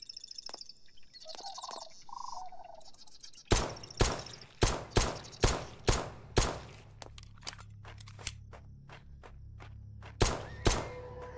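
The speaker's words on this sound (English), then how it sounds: "Let's get our pistol out. And we're just going to lay into him as hard as we can." Pistol fire at a zombie in the video game Night of the Dead: birds chirp softly, then about eight sharp, evenly spaced shots ring out loud and close, followed by scattered softer thuds and two final shots.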